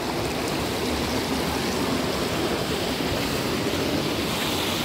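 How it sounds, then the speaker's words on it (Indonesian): Water pours steadily through a fast-flowing fish pond in Subang, West Java, a continuous broadband rushing and splashing that stays even and close throughout, with no voices. "airnya ngalir"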